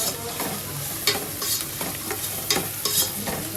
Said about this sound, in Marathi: मस्त असं लालसर कांदा होईल तोपर्यंत आपण फ्राय करायचा कांदा.